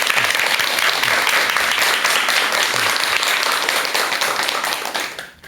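An audience applauds to welcome a lecturer at a Buddhist talk, dense sustained clapping from a crowd that holds steady and then fades out at the end.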